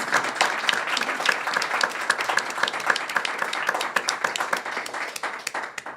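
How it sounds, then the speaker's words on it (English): Audience applause at a school district candidate forum held by the League of Women Voters: a steady, dense round of clapping from a seated crowd, moderately loud and sustained throughout, with no talking over it. "Let's give a round of applause for this."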